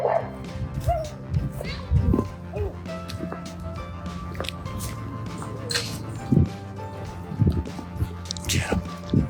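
Several dogs bark and yip in a fenced dog run, irregular bursts of barking near and far with some whimpering, while people talk intermittently in the background.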